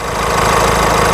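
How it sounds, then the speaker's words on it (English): A steady, close Honda CR-V 1.6 i-DTEC diesel engine idle with a low rumbling throb and faint knocking rhythm, running continuously without any voices. "engine's been running for a couple minutes"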